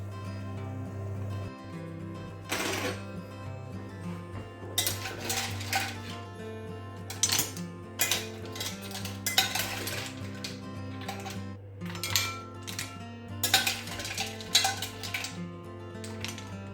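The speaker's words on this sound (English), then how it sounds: "we're now just ready to plate up the mussels" Dishes and cutlery clink and scrape close by as mussels in saffron and garlic cream sauce are plated, with irregular sharp metallic and ceramic knocks over a steady low kitchen hum and no talking.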